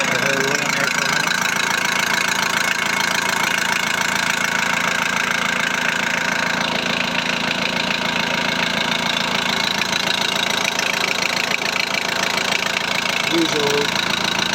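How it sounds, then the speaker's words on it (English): A VW Transporter T4 1.9 TD diesel engine idles steadily with a light mechanical rattle, close and continuous throughout. "Usual little rattle from a diesel, they're not the quietest engines anyway."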